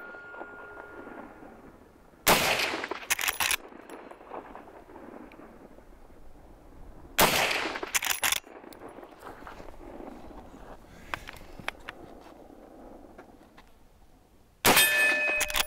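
Henry 360 Buckhammer lever-action side-gate rifle fired outdoors at a steel target, three loud booming shots spaced several seconds apart, each trailed by a clang and rumbling echo, with quiet movement between.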